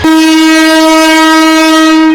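A train at a Bangladeshi railway station sounds one loud, sustained horn blast, a steady tone held close and strong from start to end.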